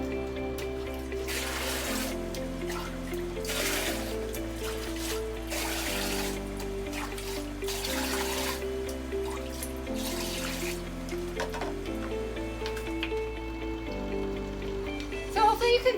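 Water trickles and drips steadily through a manual water change in a goldfish fry tank, a faint, continuous splashing that runs under a looping musical backing with no talk.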